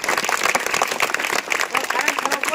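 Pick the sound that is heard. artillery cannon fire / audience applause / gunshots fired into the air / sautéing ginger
audience applause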